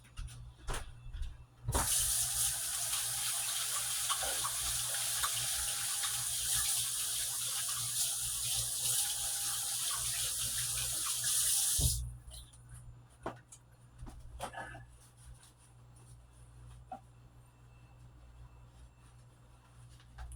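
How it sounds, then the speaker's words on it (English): A kitchen tap gushes loudly and steadily for about ten seconds as a hand is rinsed under it, then shuts off, leaving faint drips, handling and quiet movement. "I'm gonna go rinse my hand off."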